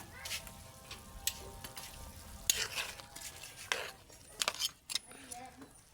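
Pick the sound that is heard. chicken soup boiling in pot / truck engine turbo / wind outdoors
chicken soup boiling in pot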